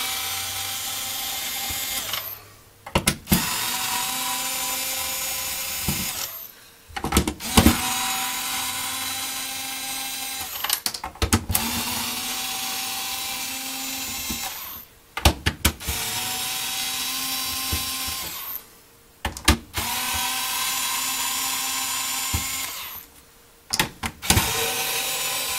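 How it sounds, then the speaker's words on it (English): An electric screwdriver loosening the case screws on a ColecoVision console, whirring in long steady runs broken by short pauses and clicks, roughly six bursts, close and alone. "you take an electric screwdriver, loosen up all 8 screws"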